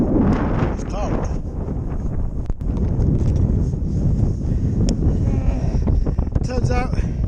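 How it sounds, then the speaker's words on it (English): A strong, cold wind of about 20 mph batters the microphone on a cycling ride, a constant loud low rumble and buffeting that never lets up, with a voice talking over it. "there's definitely a 20-mile-an-hour wind"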